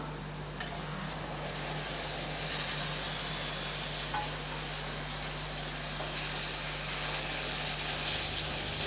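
Tomato paste sizzles and hisses steadily in a hot pan while being sautéed for egg masala, a continuous close frying sound with faint scraping from stirring throughout.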